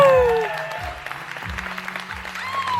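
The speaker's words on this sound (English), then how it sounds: "Ladies and gentlemen, let's have a nice round of applause for Brian Green." Wedding guests applaud at a reception, a moderate round of clapping with music and a voice briefly audible beneath it, fading slightly after the first half-second.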